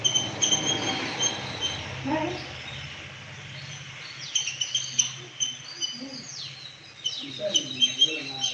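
A flock of small sparrows chirps on a bright morning in the trees, with high twittering calls scattered throughout over a steady low hum in the background.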